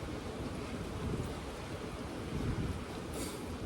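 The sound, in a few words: strong wind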